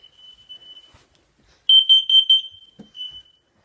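A smoke detector alarm sounds during a drill, a steady high electronic tone followed by a burst of rapid loud beeps, with a few faint knocks nearby.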